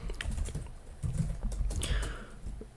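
Quick, uneven keystrokes tap away on a computer keyboard as someone types into a notepad, fairly close and steady for the whole stretch with no talking.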